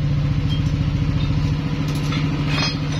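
A Yamaha NMAX version 2 scooter engine runs close and loud, a steady, slightly uneven idle with a faint clatter.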